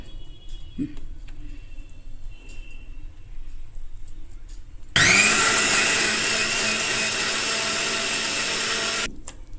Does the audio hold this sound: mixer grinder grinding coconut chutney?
yes